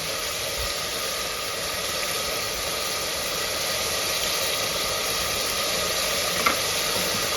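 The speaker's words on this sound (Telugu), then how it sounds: "ఇప్పుడు కొంచెం అంతా అల్లం వెల్లుల్లి పేస్ట్ వేసుకోవాలి" Ginger garlic paste sizzles in a hot pan with a loud, steady hiss and crackle that holds all the way through. A faint clink comes near the end, and nobody talks.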